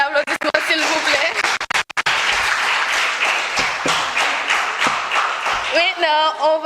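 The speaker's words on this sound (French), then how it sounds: "Une dernière applaudissement, s'il vous plaît" Applause from the audience at the final of a French public-speaking contest, sustained dense clapping filling the room, with voices speaking through it near the end.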